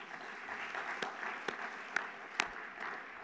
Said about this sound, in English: A round of applause to Bank of America,